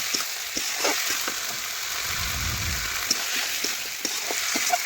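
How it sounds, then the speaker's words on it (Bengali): Chicken sizzles as it is stir-fried with red chilli powder, a steady frying hiss broken by regular light scrapes of a spatula and a brief low rumble in the middle. "একটু ভালোভাবে নাড়াচাড়া করে মিশিয়ে বেশ কিছুক্ষণ আমি একটু কষে নিচ্ছি"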